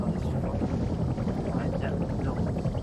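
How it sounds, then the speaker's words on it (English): Helicopter rotor blades in the video game Arma 3 make a steady, dense whirring drone that fills the whole stretch, with faint talk mixed underneath. "I can't hear you over the helicopter blade."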